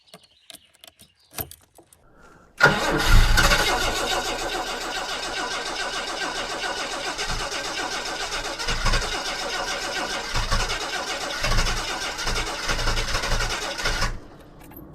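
A barn-find Jaguar XJ6 with a major engine problem cranks on the starter for about eleven seconds without catching, a loud, close, steady whirring churn with rhythmic pulses. Keys clink and a few knocks are heard just before.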